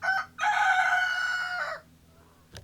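A rooster crows once on a farm in the Bahamas, a loud, close call of about a second and a half, followed by a brief faint sound.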